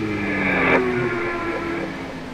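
Race car engine in iRacing, eNASCAR Coca-Cola Series at Richmond Raceway, droning with sustained tonal harmonics that rise in pitch while overtaking another car, steady and fairly loud throughout.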